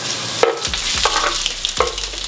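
Onions sizzling on a hot griddle under slider patties, a steady close crackle broken by a few sharp scraping stirs of a spatula.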